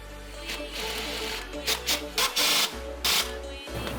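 Power tool driving high-grade engine mount bolts on a BMW E30 with an LS2 engine swap, heard as several short bursts of whirring and ratcheting in a shop with a steady hum beneath.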